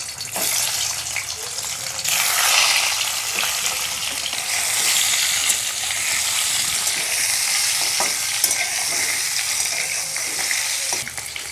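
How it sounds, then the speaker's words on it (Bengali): Eggs fry in mustard oil in a wok, giving a continuous, fairly loud sizzle that surges after a couple of seconds and holds steady, with occasional soft stirring clicks and no voices. "প্রথমে ডিমগুলো ভেজে নেব"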